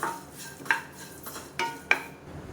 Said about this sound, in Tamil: இதையும் சேர்த்து நல்லா அந்த சூட்டிலே பரட்டிட்டுருக்கேன்